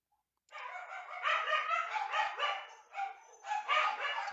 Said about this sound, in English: good dogs.